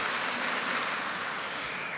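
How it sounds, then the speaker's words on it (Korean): A church congregation at an Ascension Day Eucharist applauds a visiting Vienna girls' choir, giving steady, even clapping that fills the room from a little distance, with no voices over it. "우리 잘 격려해 주시고 박수 보내주시기를 바라겠습니다"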